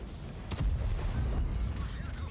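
A heavy tank cannon blast in a video game booms out and rumbles away amid continuous battle noise.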